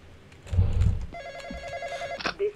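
A phone in the Roblox game The Intruder rings with a rapid trilling bell tone lasting about a second, after a low thumping rumble and followed by brief short blips.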